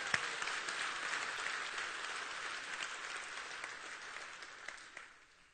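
A conference audience gives steady applause for the new campers at a large event kickoff. The dense clapping holds evenly for several seconds, then tapers off at the end.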